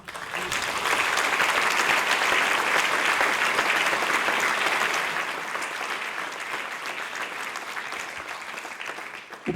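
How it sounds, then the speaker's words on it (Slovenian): An audience at a charity concert applauds: a dense, loud wash of clapping that swells for several seconds, then eases off slightly and carries on steadily to the end. "A si zaslužijo en aplavz?"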